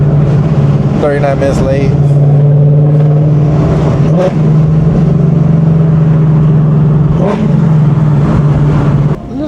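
A straight-piped Ford Mustang engine accelerates with a loud, raw exhaust drone that holds steady and swells at times, close and filling the cabin, while someone talks over it.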